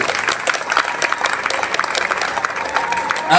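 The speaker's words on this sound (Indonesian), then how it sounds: "tepuk tangan semuanya dulu untuk Madrasah Aliyah" Crowd of students and staff applauding at an Islamic senior high school's Monday flag ceremony, loud dense clapping that fills the whole moment, close and continuous.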